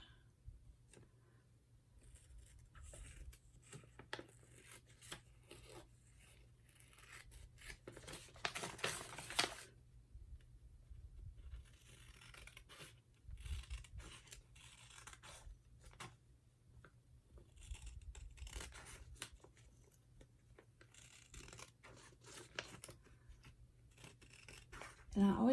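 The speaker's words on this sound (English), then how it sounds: "we're just going to make our cleanup cuts on the back" Scissors snipping through colorful junk-mail paper, making small cleanup cuts along the back of a paper window pocket; quiet, intermittent crisp snips and rustles close by, with soft talk in between.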